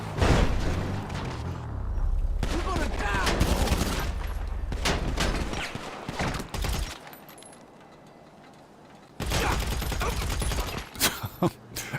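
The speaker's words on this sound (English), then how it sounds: "Absolutely love the AP pistol." AP pistol fire in GTA 5 Online comes in rapid, loud bursts of close shots with some louder impacts, broken by a quieter stretch before another sharp volley, with a voice speaking in places.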